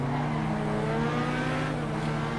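A sports GT car engine accelerates with a steady, smooth mechanical drone that holds at a constant level, heard alone and up close.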